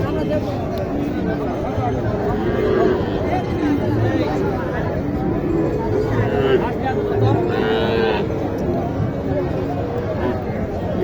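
Cattle moo repeatedly amid the steady hubbub of a crowded livestock market selling small bull calves at Matajee haat in Naogaon; the lowing rises over constant background chatter and voices.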